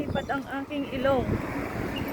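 Gusty morning wind buffets the microphone in a low rumble while someone speaks over it for the whole short stretch.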